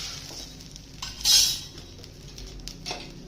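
A spatula scrapes and flips bajra (pearl millet) thalipeeth flatbread on a pan, one brief clattering scrape standing out over a faint, steady background.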